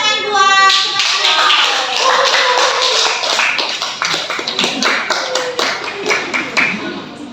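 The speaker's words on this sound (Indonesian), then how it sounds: "tepuk tangan buat" A class of students clapping together in a school classroom, fast and fairly close, with overlapping claps and a voice heard briefly at the start.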